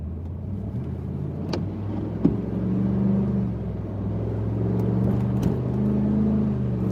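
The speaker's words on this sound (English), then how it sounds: "if you can hear the engine" A Ford Super Duty pickup truck's diesel engine runs steadily from inside the cab, a low continuous rumble with a slight rise in revs, plus a couple of brief clicks, with no talk over it.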